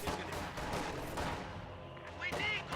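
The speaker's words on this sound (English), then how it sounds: "MG42 almost suppresses the flamethrower right there" An MG42 machine gun fires in a video game as a string of rapid, sharp bursts mixed with other battle noise, with a voice talking over part of it.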